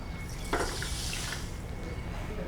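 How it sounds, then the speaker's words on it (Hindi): Water from a bowl poured into a cooking pot holding sugar while preparing syrup for jalebi, a brief splashing pour followed by soft running liquid, close and alone. "और 1 कटोरी पानी डालेंगे।"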